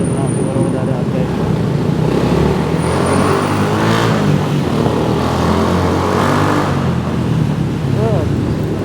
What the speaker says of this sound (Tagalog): Traffic guys. Sobrang traffic.